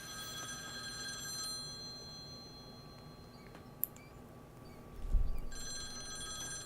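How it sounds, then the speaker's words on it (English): A telephone rings during a Devil May Cry 3 play session, with steady electronic ringing tones running through the background and pausing midway before resuming, joined by a brief low thump near the end. "Oh, whoops. Yeah, I didn't turn my phone off, my bad."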